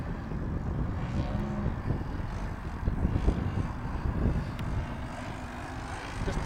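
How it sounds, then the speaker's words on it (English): An EME 60 gas engine powers a 20-pound Extreme Flight Extra 300 model airplane, droning steadily and fairly loud at a distance, with wind noise buffeting the microphone throughout. "Nothing wrong with an EME 60 on a 20-pound plane."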